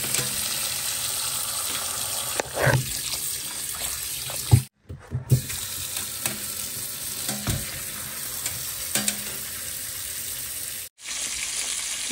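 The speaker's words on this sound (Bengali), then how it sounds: "চিকেনের মশলাটা কষিয়ে নিচ্ছি।" Chicken masala spice paste frying in a pan, a steady close sizzle with occasional stirring knocks and scrapes, briefly cut off twice.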